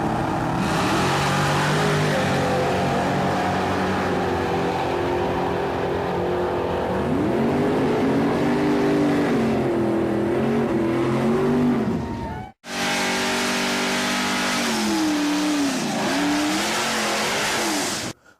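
A Chevrolet Impala SS, a 1994 model with a 5.7 LT1 Corvette V8, revs and accelerates loudly up close, its engine note rising and falling in sweeping pulls, broken by one short cut.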